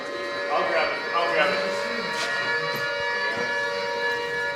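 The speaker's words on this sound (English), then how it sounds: "I think that's the air raid siren" An air raid siren wails over Lviv, a steady sustained tone heard from a distance, with voices talking over it.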